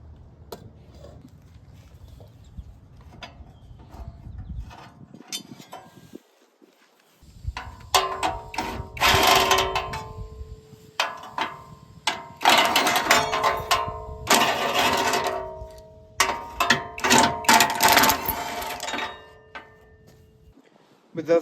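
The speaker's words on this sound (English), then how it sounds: "we can get an impact wrench in here to get these two bolts out" Impact wrench removing bolts from a Kohler Courage small engine during valve cover gasket replacement, bursts of loud rattling hammering in several runs with short pauses, close up and alone.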